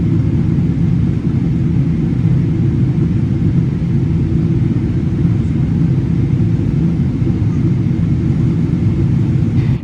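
Steady, loud low-frequency engine rumble and cabin drone inside an airliner descending through low clouds toward Istanbul Airport, continuous and unbroken throughout with no talking.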